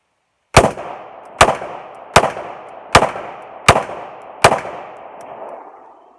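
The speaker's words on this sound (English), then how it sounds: "the efficient way to thumb fire a single action revolver" Six loud, sharp gunshots from a single action revolver fired by thumb fanning, spaced in a steady rapid rhythm about three-quarters of a second apart, each with a ringing decay, outdoors and close, with no talking.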